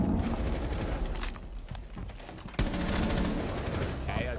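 Gunfire in Rainbow Six Siege, with rapid shots that rattle through dense game noise and a sharp loud report midway, while players talk over it.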